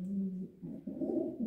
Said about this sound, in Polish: Najlepszy gołąb w gołębniku rozpłodowym